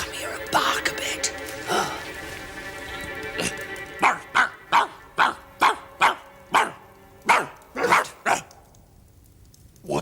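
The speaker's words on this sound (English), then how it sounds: "Come here and bark a bit." A dog barks about a dozen times at nightfall, the sharp, evenly spaced barks coming close and loud in a steady rhythm after a stretch of murkier indoor noise.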